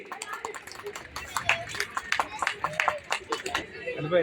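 An audience at a Malayali welfare association ceremony honouring couples married 25 years gives a round of applause: scattered, uneven clapping from a modest crowd with faint murmuring underneath.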